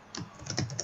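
Keys clatter on a computer keyboard while an animation gets a name inside the Unreal Engine 4 editor, giving a short burst of several quick, close taps with no voice.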